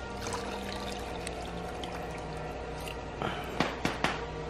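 Water is poured from a cup in a steady, continuous trickling stream, with a few louder splashes and knocks toward the end.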